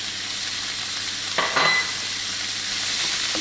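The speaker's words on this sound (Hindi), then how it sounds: "अब इसी फ्राइंग पैन में हमने अपनी चिकन को फ्राई कर लेना है।" Chicken sizzling in about three tablespoons of hot oil in a frying pan, a continuous close hiss with a brief scrape of stirring midway, no talk.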